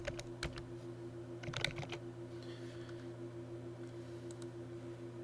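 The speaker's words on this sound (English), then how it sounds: "in the second blank entry, we're going to type November 30th" Keys tapped on a computer keyboard while entering a date into an Excel filter box, a few quick bursts of clicks early on, then quieter scattered taps over a steady low electrical hum.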